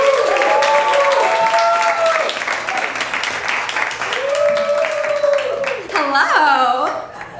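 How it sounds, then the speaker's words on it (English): A comedy club audience at West Side Comedy Club in New York City applauds a comedian with a sustained burst of clapping, mixed with cheering and whooping voices that swell again near the end. "Give a big round of applause to Danielle Creighton."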